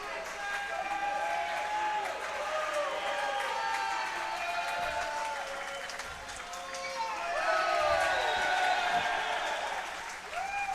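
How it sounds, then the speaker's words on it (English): Swim teams at a Normal West vs. Peoria Notre Dame boys' meet clap for their teammates in an echoing pool hall, a steady wash of applause and crowd noise with whistles and faint voices underneath, swelling toward the end. "We see the other team also joining in on the clapping."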